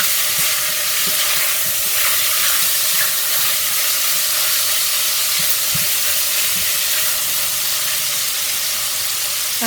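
Chicken wings seasoned with Goya adobo fry in a pan on a stovetop turned up to high, giving a steady, loud hiss and sizzle throughout with faint scattered pops and no talking.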